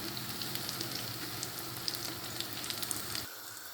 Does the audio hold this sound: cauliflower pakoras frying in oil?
yes